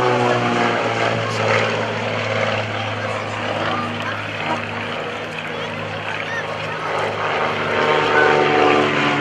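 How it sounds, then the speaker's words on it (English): A T-34 Mentor propeller plane passes at an airshow. Its engine makes a sustained, droning buzz that swells and fades slightly as it flies by, while an announcer talks over it through a PA. "Here we go, ladies and gentlemen, coming around from the right. Here is the T-34 Mentor."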